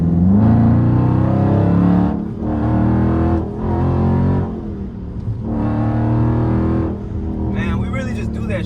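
A Dodge Scat Pack with its mid muffler deleted drones loudly from inside the cabin while driving, the deep exhaust rising and dipping in long surges as the throttle changes.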